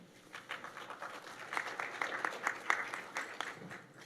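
Scattered applause at a state Senate budget and appropriations hearing, modest and fairly distant, building over a few seconds of uneven clapping in a large room.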